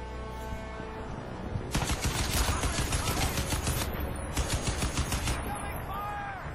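Crysis 2 video game gunfire sounds as dense, rapid automatic bursts in two long stretches over a constant game noise bed, with a brief pause between the bursts.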